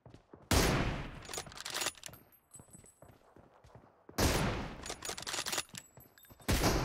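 Loud bursts of automatic gunfire from a shooter video game roar in long volleys, separated by short stretches of quieter clatter and single shots.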